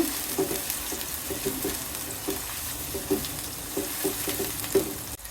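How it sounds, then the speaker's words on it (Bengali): Onions fry in a pan for a fish and pea curry, giving a continuous soft sizzle with repeated light scraping stirs at a regular pace, close by and moderately quiet. "এই তো পেঁয়াজগুলো কিছুক্ষণ ভেজে নিলাম।"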